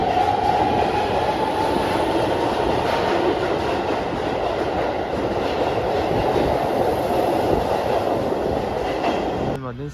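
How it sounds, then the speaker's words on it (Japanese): A Keihan electric train rolls into a station, a steady loud rumble of wheels and carriages that runs the whole time, with a brief squeal near the end. "今電車が来ました。"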